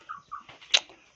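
Chicken clucking close by, a few short soft clucks followed by a sharper, louder squawk, brief and alone.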